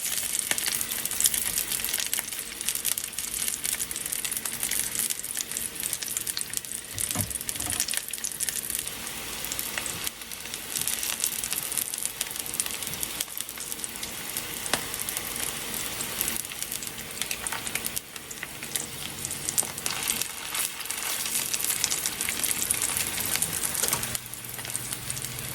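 Homemade chicken sausages, bratwurst style, fry in a cast iron skillet with a steady, fairly quiet sizzle that runs unbroken, broken only by occasional soft knocks as they are turned.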